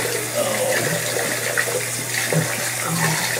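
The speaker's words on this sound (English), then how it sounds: "Then rinse off with some cold water." Cold water runs steadily from a tap while rinsing off during a shave, a continuous close splashing wash that stays alone throughout.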